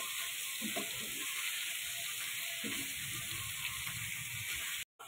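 Marinated chicken sizzling in Kashmiri masala in a hot pan, a steady close-up crackle with a few stirring scrapes, then a brief cut-out near the end.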